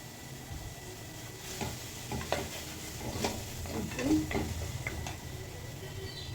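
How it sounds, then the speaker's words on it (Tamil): Onion, tomato and ginger-garlic paste sauté in a pan for a mutton dish, a soft ongoing sizzle broken by scattered scraping and tapping stirs of a spoon, fairly quiet and close, with no speech. "வெங்காயம், தக்காளி, இஞ்சி பூண்டு ஒரு 2 மினிட்ஸ் வதக்கினா போதும்."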